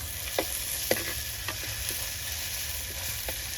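Onions and spices fry in a pan over a wood-fired stove, a moderate continuous sizzle punctuated by sharp, evenly spaced clicks and scrapes of stirring.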